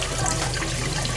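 Water runs through a homemade pond filter, passing a net mechanical stage toward a bio chamber, making a steady, continuous rushing trickle with a low hum underneath and no talking.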